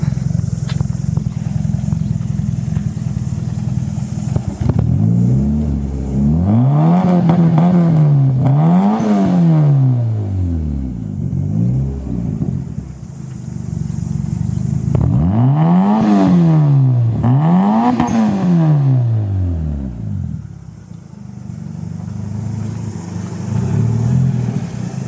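A 1984 Toyota Starlet KP61 fitted with a turbocharged 4AGTE engine idles loudly up close, then gets blipped through four sharp revs in two pairs, each climbing and falling quickly before settling back to a steady idle.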